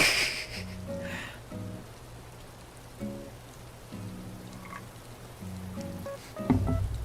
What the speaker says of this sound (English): Just because rain is so soothing. I love the sound of rain.